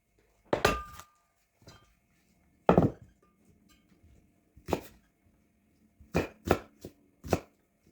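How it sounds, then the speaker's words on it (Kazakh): Onions being chopped with a knife on a board, about eight sharp, separate cuts in an uneven rhythm with short pauses between them, close and clear, with no talk. "пиязымызды осылай турап алатын боламыз"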